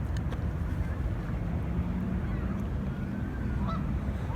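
Geese honk outdoors, a few scattered calls fairly faint over a steady wind-buffeted background, with no talking.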